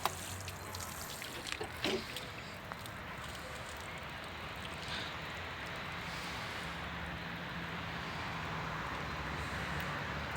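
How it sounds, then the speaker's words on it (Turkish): Water poured onto freshly pressed soil over a planted persimmon seed, a faint, continuous trickle and splash with outdoor wind noise, fairly quiet and steady, a few brief knocks near the start. "son olarak da suyunu veriyoruz"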